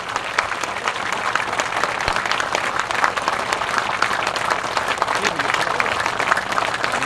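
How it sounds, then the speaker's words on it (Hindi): A large outdoor crowd of local people at a Simariya road inauguration event claps loudly and steadily for several seconds, a dense continuous wash of applause with voices mixed in. "एक बार जोरदार तालियां बजाइए सिमरिया के लोगों"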